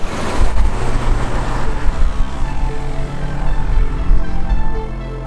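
A Mercedes W126 6.0 SEL 4V AMG with a 32-valve V8 under way: a steady, loud engine and road drone with low rumble and tyre noise from inside the car, alone without talk.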